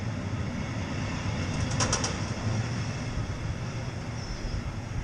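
Train carriages roll past nearby in North Yorkshire countryside, a steady rumbling wash that carries on throughout, with a brief burst of birdsong partway through and no voices.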